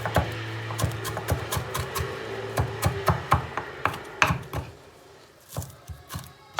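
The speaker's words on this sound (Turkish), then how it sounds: "Şimdi bütün malzemelerimizi bu şekilde doğruyoruz." Rapid knife chops on a cutting board while preparing kısır ingredients such as dill, sharp wooden knocks in uneven bursts with short pauses, close and fairly loud.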